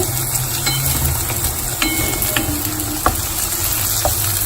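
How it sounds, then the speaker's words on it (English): Beans, carrots, potatoes and onion sauté in a pan, giving a continuous loud sizzle with scattered clicks and scrapes of a spoon against the pan, no voices. "இப்போ எல்லா காய்கறி வெங்காயம் போட்டோன்னா பீன்ஸ், கேரட், உருளைக்கிழங்கு அதையும் போட்டு இப்போ அதை வதக்கிட்டு இருக்காங்க"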